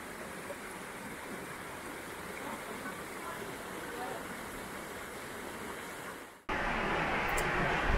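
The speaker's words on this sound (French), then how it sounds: "Donc là, je suis au bord d'une rivière." Steady broadband rush of a river flowing in a very humid wild setting in Auvergne, continuous and close, with a brief dip before the water noise swells louder and nearer.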